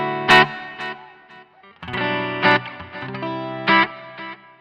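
Distorted electric guitar through a NUX Amp Academy direct amp unit set to damp reverb plays chords and picked notes, each attack trailing off in a short, dull reverb tail, with no voices.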